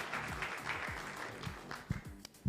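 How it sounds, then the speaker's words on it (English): Audience applause at a bank's sustainability report launch in Kenya, soft scattered clapping heard faintly and somewhat distant, with a few sharper claps toward the end. "Let's give the young lady a warm round of applause to get her ready to come up here"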